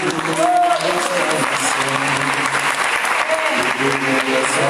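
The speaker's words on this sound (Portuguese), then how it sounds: "Você pode aplaudir o Senhor?" A church congregation claps for the Lord during a Portuguese-language service, dense applause throughout with a sustained musical tone, likely an organ or keyboard, underneath it.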